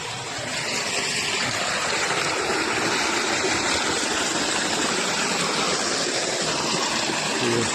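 A running farm pump motor in the fields sends water gushing out in a loud, steady, unbroken rush that stays close and constant throughout.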